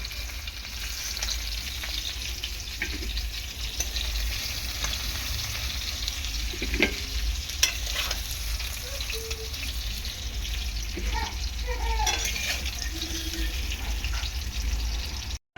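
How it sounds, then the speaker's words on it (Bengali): Potatoes frying in salted oil in a kadai make a continuous, busy sizzle, broken by occasional scraping and stirring clatters. "সবগুলো আলু ভালো করে ভেজে আমি তুলে নিয়েছি"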